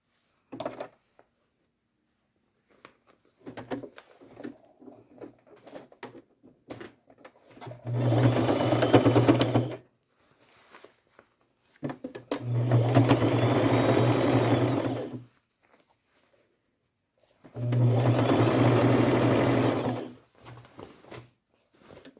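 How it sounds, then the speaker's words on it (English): A sewing machine stitches old denim jeans in three sustained whirring bursts of a couple of seconds each, separated by quieter handling clicks and fabric shuffling. "start sewing down this side of the triangle and lining these up as I go."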